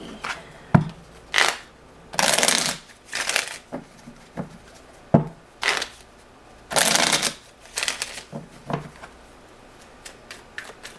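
Tarot cards being shuffled by hand, a run of crisp riffling bursts and soft taps close up, repeating in uneven rhythm for several seconds with no voice.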